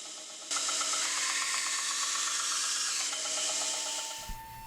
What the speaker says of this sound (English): Now I'll clean the scales up and grind off any excess epoxy